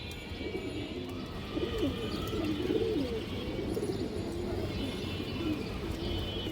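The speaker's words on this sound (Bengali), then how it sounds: "দর্শক দেখেন কবুতরটা মাশাল্লাহ অনেক সুন্দর একটা কবুতর" A Hurricane (Khoragola) breed pigeon coos in soft, repeated rolling phrases close by, over a steady background hum with faint chirps.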